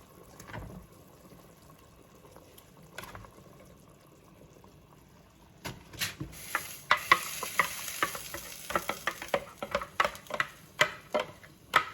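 Korean-style chicken porridge bubbling in a Cuisinart 13-cup pot, quiet at first, then a busier run of soft pops, stirring and liquid splashes toward the end.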